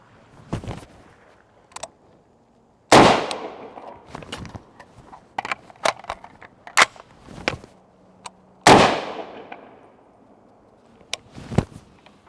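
Two loud, sharp SIG rifle shots firing 6.8 millimeter hybrid ammunition on an outdoor range, each ringing out with a long decaying echo, separated by several seconds, with scattered clicks and handling knocks between them and no talking.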